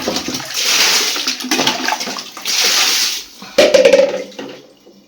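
Water gushes from a tap into a bucket in loud surging bursts that come and go, with a short clattering knock partway through before the flow fades out.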